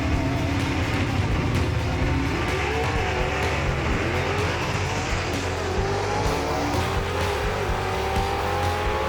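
Two 1967 Camaro gasser drag cars race down the strip at Knoxville Dragway, their engines roaring loud and continuous with rising revs over the whole stretch.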